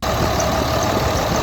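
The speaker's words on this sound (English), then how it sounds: "Sorry for the noise, guys, but the engine is running," A Dodge Ram truck with a 5.9L Cummins diesel engine idles steadily, a loud continuous rumble with no break and no voices.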